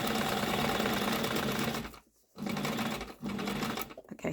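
A sewing machine stitching a fabric roll, running in a fast, steady hum close by. It stops briefly twice and then starts again.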